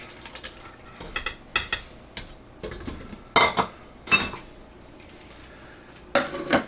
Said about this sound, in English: I'm going to put this carefully into my crock pot.